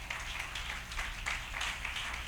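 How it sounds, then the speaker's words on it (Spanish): A church congregation applauds during a sermon, a steady wash of clapping that holds at an even level for the whole stretch, moderately loud and with no clear voices over it. "Dele ese aplauso fuerte a él"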